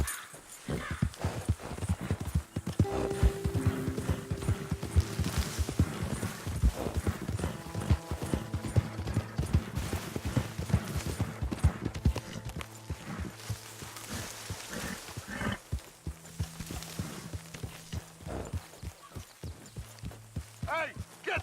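Horse hooves clip-clopping in Red Dead Redemption 2, a continuous rhythmic trot of close hoofbeats with occasional game music tones and voices talking over it.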